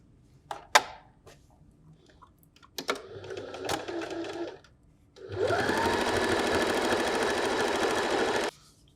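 A sewing machine runs steadily for about three seconds, stitching across the top of a patchwork fabric pennant. It comes after a few sharp clicks and handling sounds from the fabric and machine.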